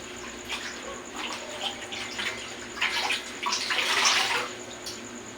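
During a complete bed bath, water is rinsed and splashed in a basin with a steady soft trickle and swelling bursts of splashing, close by and moderately loud with no talking.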